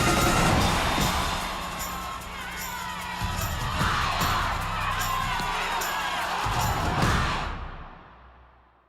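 A large festival crowd cheering and shouting, a dense roar with whoops and yells that stays loud, then fades out over the last two seconds.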